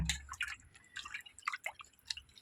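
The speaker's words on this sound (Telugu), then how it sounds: "ఆ రసం తీసుకొని పోసుకుందామండి పప్పులోనే" Tamarind juice being poured into cooked dal, soft irregular splashes and drips of liquid, quiet and close, with no talking.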